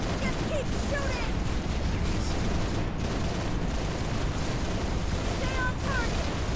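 Gunfire and explosions from a Halo Reach video game battle form a dense, continuous rumble of shots and blasts, moderately loud with no pauses.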